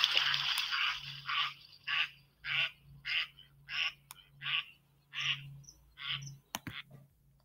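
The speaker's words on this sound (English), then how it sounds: "Mallards, you can obviously hear them quacking." Mallard ducks quacking near water, a run of about a dozen evenly spaced nasal quacks at moderate distance over a low steady hum, ending with a few sharp clicks.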